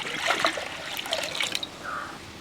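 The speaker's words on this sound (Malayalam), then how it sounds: "അഞ്ച് കാൽ ഗ്ലാസ് വെള്ളം അളന്ന് വെച്ചേക്കുവാണ് അത് ഒഴിക്കുവാണേ" Measured water is poured into rice flour in a kitchen, a close trickling, splashing flow with uneven bursts and a short gurgle toward the end.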